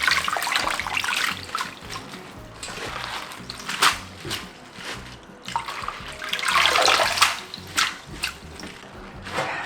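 Water is poured over lettuce in a bowl while making Korean water kimchi, giving splashing and trickling bursts that rise and fall and swell loudest in two main pours, close up and without talk.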